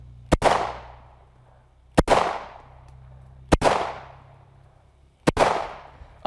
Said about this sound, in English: that was 100 rounds with the Glock 17